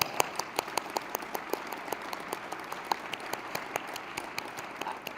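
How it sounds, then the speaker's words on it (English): Applause from a symposium audience, faint and distant, with sparse individual claps ticking in a loose rhythm through a hushed hall. "offer Rhonda and Avatar Rhonda a round of applause"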